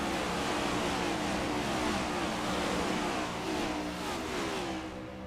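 Race car engines roar continuously in an iRacing Cup Series race at Darlington as the field accelerates back to green, a dense, loud revving wash with no talk over it.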